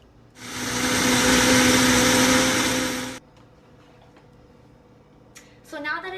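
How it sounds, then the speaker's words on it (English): A Vitamix blender whirs loudly as it blends a cashew alfredo sauce with nutritional yeast and water, a steady close roar of about three seconds that then stops, followed by quiet and a brief voice. "Then you blend it."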